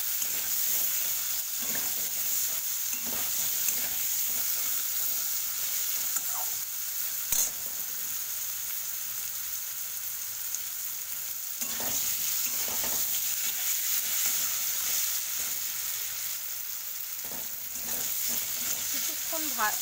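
Steady sizzle of frying in a pan seasoned with salt and turmeric, for a Bengali pui shak ghonto (Malabar spinach dish), with occasional stirring scrapes breaking through the continuous hiss.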